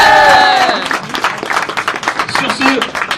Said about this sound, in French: applaudissements pour le public